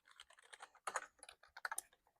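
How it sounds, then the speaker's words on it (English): A Geodmaer 65% 68-key wired gaming keyboard with stiff, clacky keys is typed on close up, giving irregular quick keystrokes with a few louder clusters and short pauses between them. "The larger keys, like especially the space bar, are a bit noisier, but they're all noisy."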